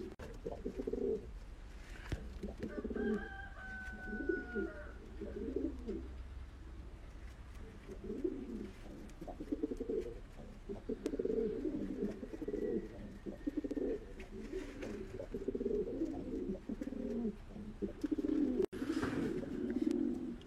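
Pigeons coo steadily in soft, repeated rounds of low throaty calls, fairly close, with a faint chirp early on and no voices.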